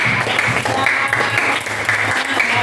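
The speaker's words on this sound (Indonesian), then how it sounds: "Oke, cukup tepuk tangan buat kalian" Applause from a group, a brisk burst of many hands clapping at close range that holds steady and fairly loud.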